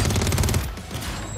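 Video game gunfire shot through a wall: a rapid automatic burst fills the first half-second, loud and close, then trails off into a duller spray and background game noise.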